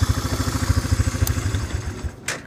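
Honda Fourtrax 300 4x4 ATV engine running close by with a steady, throbbing idle pulse, followed by a short sharp clatter near the end.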